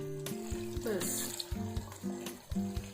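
Water is poured into a pan of chicken karahi, setting off a brief rush of sizzling and frying around mid-clip, with stirring clatter, at a moderate level.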